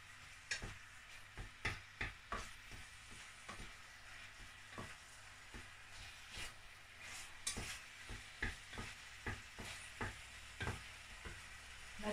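Utensil stirring and scraping in a pan while preparing lasagne, a steady series of quick, close clacks and taps with a faint sizzle underneath, no voices.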